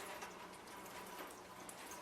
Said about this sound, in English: drain the water out of them real good, and just kind of like press the water out